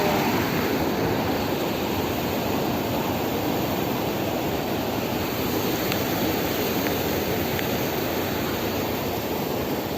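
Water rushes in a steady, broad hiss without pause, loud and close, like a stream or small waterfall flowing nearby.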